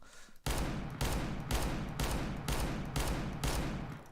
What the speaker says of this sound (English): the R8 has a right click ability that just shoots like a random bullet